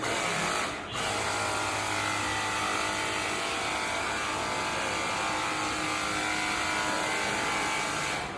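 A 21V DingQi cordless pressure washer runs with a steady, loud motor whine and hiss of spraying water, briefly dipping near the start and then holding constant.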